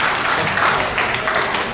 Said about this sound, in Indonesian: Beri tepuk tangan yang paling meriah buat Tuhan.